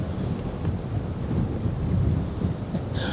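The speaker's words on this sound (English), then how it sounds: "as you can probably see and hear, the wind has really come away now" Strong wind of roughly 18 to 20 knots gusts over an open lake while fishing from a boat, a loud steady roar buffeting the microphone throughout, with faint water slap underneath and no talking.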